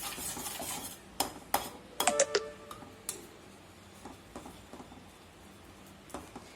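Butter stirred into homemade chocolate syrup in a pan, heard as bright metallic clinks and scrapes of a spoon against the pan in a short cluster early on, then sparser taps, close and moderately quiet.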